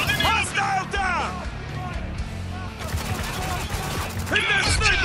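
Rapid bursts of gunfire and heavy shotgun blasts crackle in a Spec Ops: The Line firefight, dense and loud with overlapping shots, while soldiers shout over the combat.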